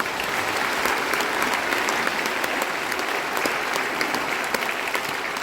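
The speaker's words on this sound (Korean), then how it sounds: "두 분께도 아낌없는 박수 부탁드립니다." A large crowd applauds at the opening-eve ceremony of a fantastic film festival, a sustained, even wash of clapping that holds at a constant level throughout.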